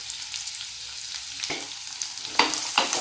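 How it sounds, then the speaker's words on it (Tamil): Onion, garlic and dried red chillies sauté in hot oil in a pan for garlic chutney, giving a steady close sizzle broken by a few sharp scraping stirs toward the end. "இப்போ இது எல்லாத்தையும் நல்லா வதக்கிக்கலாம்."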